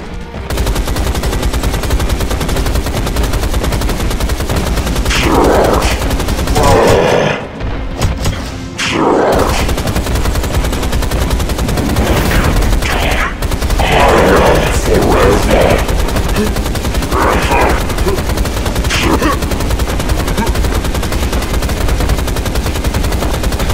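Gunfire in the Rise of the Triad video game: dense, loud, near-continuous automatic shots and booming thuds, with a brief lull partway through and voices breaking through the barrage.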